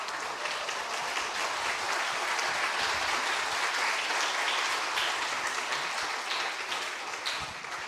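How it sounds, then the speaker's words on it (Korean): Sustained applause fills a retirement and inauguration ceremony in Busan, a dense crowd clapping steadily and loudly throughout with no pause. "큰 박수로 축하해 주시기 바랍니다."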